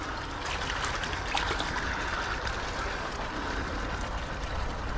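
Water pours steadily into a backyard pond, a constant close splashing and trickling hiss with no pauses and no voices.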